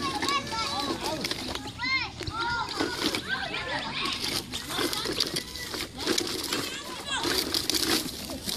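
Children play and shout at a busy public picnic area and playground in a park in Auburn, with lots of overlapping kids' voices, squeals and splashing water, constant and fairly close.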